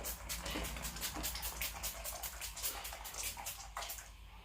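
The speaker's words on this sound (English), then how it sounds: "So I'm spraying my face with Mario Bidosco Settings Skincare Rose Water Spray" Fine mist from a Mario Badescu rose water setting spray sprayed onto the face, a quick run of soft hissing bursts close to the mic.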